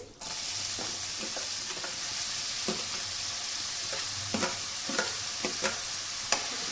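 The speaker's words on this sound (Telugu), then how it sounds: "ఫ్రై చేసుకుందాం. ఆనియన్స్ ఇలా గోల్డెన్ బ్రౌన్ వచ్చాక" Onions, green chillies and curry leaves fry in a pan with a steady, even sizzle, broken by occasional soft scrapes and taps of a stirring spoon.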